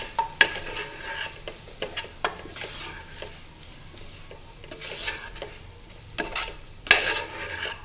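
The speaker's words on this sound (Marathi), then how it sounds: "छान हलवून घ्यायचं" Dal khichdi being stirred in a hot pan, a ladle scraping and clacking repeatedly against the metal over a continuous frying sizzle, close and lively, with no speech.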